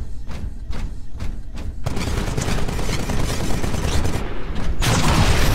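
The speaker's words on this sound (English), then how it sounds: "This weapon absorbs incoming ballistics for a limited time, then refires them." A Titan's Vortex Shield in Titanfall hurls absorbed bullets back out. A few quick thumping shots are followed by a dense, loud burst of rapid gunfire that keeps rolling for several seconds.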